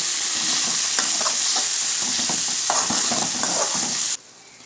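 Four tomatoes sizzle and fry in a hot pan for kara chutney, a steady close hiss broken by repeated stirring scrapes and clicks, alone with no voices, cutting off abruptly near the end.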